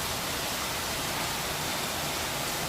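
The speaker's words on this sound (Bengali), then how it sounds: "তো অঝরে বৃষ্টি নেমেছে" Heavy rain pours down in a dense, unbroken hiss that stays loud and even throughout.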